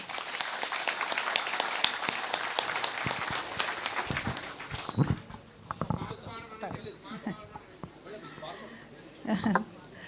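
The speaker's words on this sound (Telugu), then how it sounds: "మేడం గారికి గట్టిగా చప్పట్లు కొట్టండి" An audience at a youth fest bursts into dense, loud clapping for about four seconds, then the applause thins out as a voice begins speaking over scattered claps.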